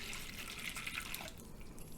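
Water trickles and drips into a bowl of cut-up sponges, a steady close splashing pour that thins out toward the end, with no talking.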